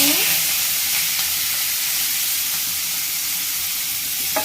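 Prawns frying in hot oil in a kadhai, a loud, continuous sizzle and hiss with a few sharper spits and pops near the start and end.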